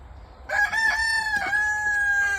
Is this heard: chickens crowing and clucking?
yes